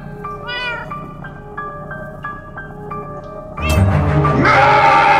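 A cat in the video game Minecraft Story Mode gives a short meow, followed by a few soft, evenly spaced chiming tones. A louder, busy burst of game sound then cuts in near the end.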